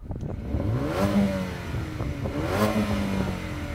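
A Mercedes-AMG A35 engine revs up loudly twice, climbing in pitch and dropping back, close by with a rough, throaty rumble underneath.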